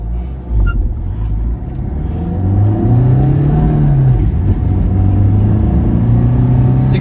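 A Maruti Swift car accelerating hard from standstill toward 100 km/h, its engine rising in pitch through the gears with brief dips at shifts, loud and close inside the cabin throughout.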